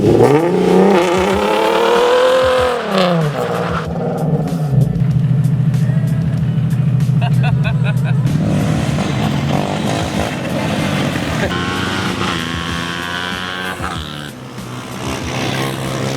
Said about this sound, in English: So I'm actually gonna do it one more time so you guys can fully see me do a burnout